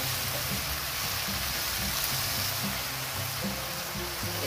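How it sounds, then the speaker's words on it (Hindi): Chopped garlic frying and being stirred in a pan for a spicy spaghetti, with a steady close sizzle and soft scraping stir strokes. "3-4 मिनट भूनने के बाद इसका कलर जब चेंज होने लगे तो फिर इसमें डाल देते हैं गार्लिक, थूम कटा हुआ और फिर 2-3 मिनट इसको हिलाते हैं"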